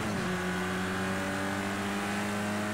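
Race car in the Project CARS 2 racing game pulling away from a corner in third gear, a steady, even engine drone with no break, fairly soft and with no talking over it.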